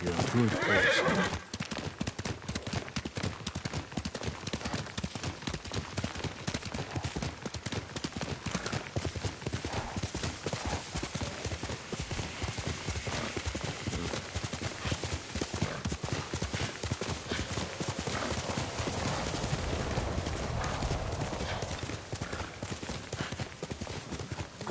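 Horse hooves clip-clop steadily and a horse neighs in the Ghost of Tsushima video game, set on Iki, under game music, ambience and voices talking throughout.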